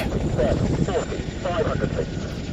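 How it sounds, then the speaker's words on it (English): An RAF Chinook helicopter in flight makes a loud, steady rotor roar with a broad rumble that holds through the whole short stretch. "what helicopter is this? It's the fabulous RAF's Chinook."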